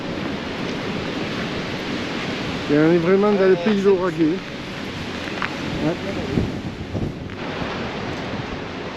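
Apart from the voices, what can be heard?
strong wind blowing outdoors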